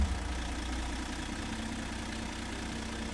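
Kenworth T880 truck with a Cummins X15 engine idling in American Truck Simulator, a steady low mechanical drone throughout with no talk.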